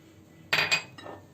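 A spoon clinks against a bowl while mixing chicken marinade of olive oil and spices, giving two quick metallic clatters close together and then a softer third scrape, with no voices.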